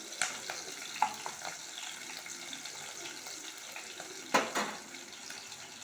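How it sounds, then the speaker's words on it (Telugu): Green chilies fry in a pan, giving a steady soft crackle with a few sharper pops and clinks of utensils standing out over the sizzle. "పచ్చిమిర్చి వేసిన మంచిగా గోడుతున్నాయి"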